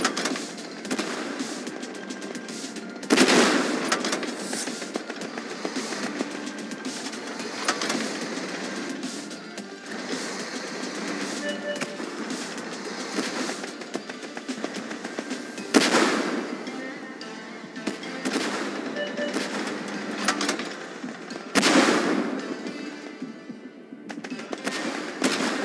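Artillery bombardment in a tank battle video game, a long dense stretch of rapid firing and crackling blasts with several louder explosive thumps scattered throughout, loud and continuous.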